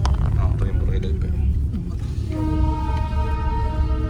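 A train on railway tracks in Sikkim, rumbling steadily nearby while a sustained horn or whistle tone rises over it.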